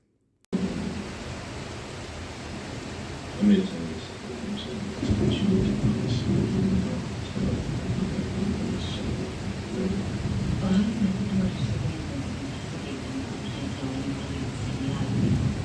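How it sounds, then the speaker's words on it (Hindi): Steady heavy rain pours throughout, with low rolls of thunder swelling beneath it, a sharper crack early on, and no voices. "तेज़ बारिश और साथ में बिजली और गरज चमक।"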